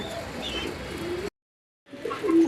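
Pigeons cooing inside a pigeon loft, soft throaty calls close by, broken by a brief silent gap before the cooing returns.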